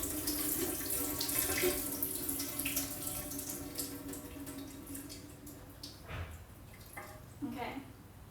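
Water runs from a tap into a sink while seeds are emptied from water, a steady splashing flow with drips and light clatter, close by and moderately quiet.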